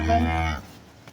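A single loud, close dairy cow moo, deep and drawn out for about half a second before breaking off into quiet, at a cattle sale.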